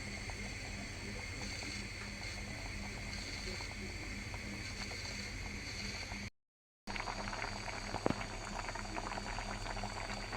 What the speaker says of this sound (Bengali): আমার এদিকে বাটটা বলক এসে গেছে